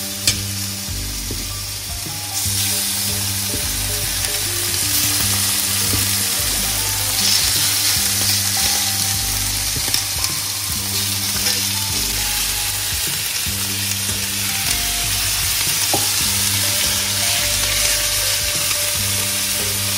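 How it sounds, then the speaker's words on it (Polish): Chicken sizzling in Croatian olive oil in a frying pan on a stove set above medium heat, a steady loud crackling fry running throughout with occasional stirring clinks. "Na nią pójdzie kurczak."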